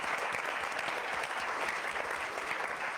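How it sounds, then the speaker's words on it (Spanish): An audience applauds a director at a Mexican public forum on preventing and punishing femicide violence, with thick, continuous clapping that holds steady and close from start to finish. "yo pido un aplauso muy fuerte para él."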